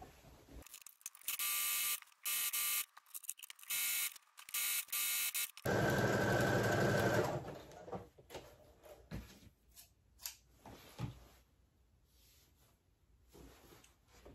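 Domestic sewing machine zigzag stitching a shirt sleeve and side seam, buzzing in several short bursts and one longer run, close and clear, followed by quieter handling clicks.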